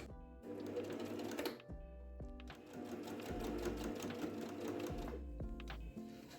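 A sewing machine stitches a tote bag in steady rapid runs, stopping briefly a few times, close up and fairly quiet.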